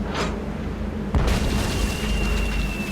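A new Hungarian easy-action cannon in the Tales of Monkey Island game fires a cannonball with one sudden loud boom that rolls into a sustained rumble.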